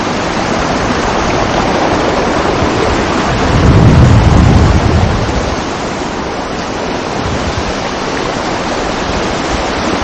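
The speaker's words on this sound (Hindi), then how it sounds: "ये एक वाटर स्ट्रीम मिली है हमें।" A mountain water stream on a Himalayan trek rushes loudly and steadily close by, a dense continuous roar of flowing water that swells briefly midway.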